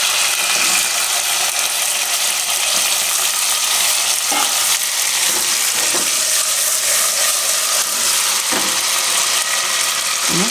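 Potatoes sizzle and fry in hot oil with cumin seeds and chillies, a dense, steady crackle throughout with a few scraping stirs of a spoon in the pan, close and loud.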